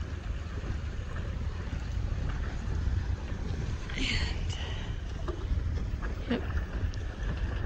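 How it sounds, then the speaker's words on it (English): A sailboat under mainsail enters a harbor, with steady wind buffeting the microphone and low rushing water around the hull; a person speaks briefly over it. "Coming into Brentcoat Harbor under sail."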